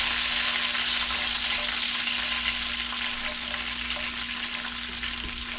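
Bacon and mushrooms fry in a hot skillet with a steady, dense sizzle that stays loud and even throughout, with no talking, while a faint electrical hum runs underneath.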